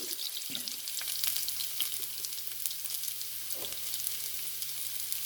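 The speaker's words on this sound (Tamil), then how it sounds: "இஞ்சி போடுறேன் இந்த இஞ்சியும் வெள்ளைப்பூடும் கொஞ்சம் வதங்கட்டும்" Ginger and garlic fry in a pan for a squid chukka, giving a steady, crackling sizzle with a low hum underneath and a couple of soft stirring knocks.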